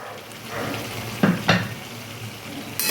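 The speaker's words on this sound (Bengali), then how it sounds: "আমি ভেজে রাখা ওলকপি আর আলুটা দিয়ে দেব" Fried kohlrabi and potato drop into sizzling spice paste in a pan, with a steady frying hiss broken by two sharp clunks of the pieces or the spoon hitting the pan, close up.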